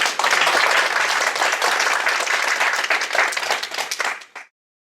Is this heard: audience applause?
yes